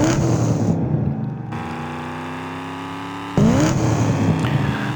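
Engines roar steadily in the Fast & Furious Arcade racing game, loud continuous revving with pitch shifts as gears change, a Ford GT and Jeep Wrangler among the cars, with no voices.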